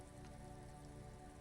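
Steady rain patters in Disco Elysium, a dense, even hiss of drops with a low rumbling undertone, continuous and fairly quiet throughout.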